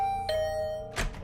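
A doorbell chimes inside a video game, a clear two-note ding-dong with a sustained electronic tone, followed by a soft thump near the end, alone and without talking.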